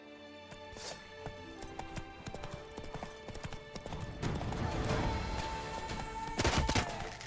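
A horse's hooves clip-clop at a quick riding pace in The Witcher 3: Blood and Wine, in steady rhythmic beats over game music and sharp bursts that grow louder toward the end.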